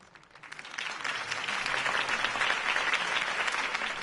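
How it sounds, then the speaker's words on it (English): A crowd in a video game breaks into applause that swells and holds steady, dense clapping filling the space without any talking. "could have heard that applause"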